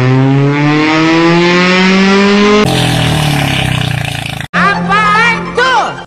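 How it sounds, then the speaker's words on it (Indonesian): Loud racing exhaust from a car or motorbike blares in three segments, a steady droning rumble followed by rasping revs that rise and fall, all close and alone. "Knalpot untuk mobil atau motor balap memang seringkali mengeluarkan suara yang berisik."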